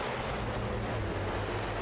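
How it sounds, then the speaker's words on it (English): Jet engines roar in the naval combat game From the Depths, a steady, loud broadband rush with a low rumbling hum underneath, constant throughout with no speech. "these jet engines sounds a lot"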